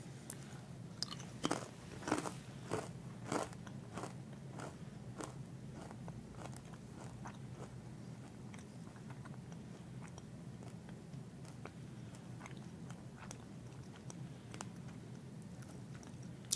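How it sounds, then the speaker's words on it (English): Dry, super crunchy crackers bitten and chewed up close, with a cluster of sharp crunches early on followed by softer, steady crackling chews over a low background hum. "simply because it's super crunchy and the crackers are dry"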